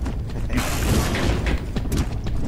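A turret is repaired in Gears of War 3, with a loud, close mechanical clanking and grinding that rises after half a second and carries on through the short clip.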